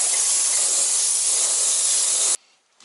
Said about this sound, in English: So last step, blow it down with air.